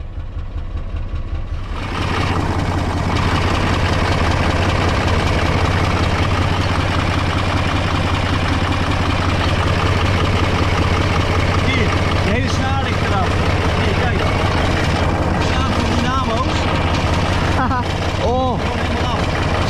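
An old Magirus truck engine idling, a loud, steady, deep rumbling drone that starts after a brief quieter moment and runs unbroken, close up, with a couple of short voice sounds over it near the end.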